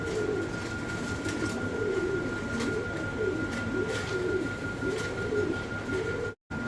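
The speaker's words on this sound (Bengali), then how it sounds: "এখানে পিওর জার্মান শিল কবুতর" Pure German shield pigeons in grey checker colouring coo in a repeated, rolling pattern of low throaty calls that keep going throughout. A steady hum and broad background noise run underneath, with a brief dropout near the end.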